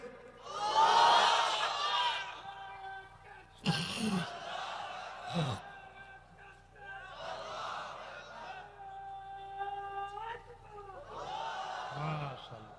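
A large crowd at an outdoor Islamic sermon gathering shouts the takbir in loud, surging bursts, several waves separated by a preacher's amplified voice and tonal calling between them.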